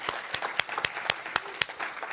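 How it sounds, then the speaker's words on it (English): A small gallery audience gives a brief round of applause for partners at a faculty presentation, sparse distinct claps standing out sharply, moderately quiet and close. "So a big hand of applause for our partners"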